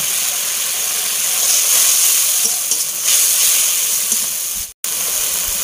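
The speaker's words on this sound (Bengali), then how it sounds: "আমি মশলাটাকে ভালো করে কষে নেব।" Spice masala frying in a pan for a Bengali New Year fish-head meal, a loud, steady, close sizzling hiss that swells in the middle, then cuts out abruptly near the end, with no talking.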